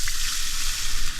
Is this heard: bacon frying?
yes